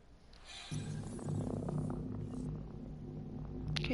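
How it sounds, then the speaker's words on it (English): A cat purrs in the video game Mass Effect: Andromeda, a steady low rumble that swells in after the first moment and carries on close and continuous to the end, over faint game background sound. "so that's the cat"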